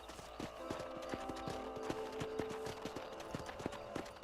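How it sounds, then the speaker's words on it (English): Steady clip-clop of horse hooves at a walking pace in the video game Red Dead Redemption, close and rhythmic, with faint background ambience. "I said there's a nice horse that Bonnie's riding"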